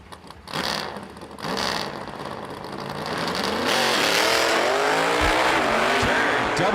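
A drag racing car, a 1968 Camaro among the entrants, makes its quarter-mile run at a US 13 60th anniversary event, engine roaring loud and rising steadily as it pulls away, with brief tire-squeal bursts near the start.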